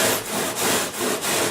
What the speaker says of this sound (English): I've just got the Japanese pull saw working there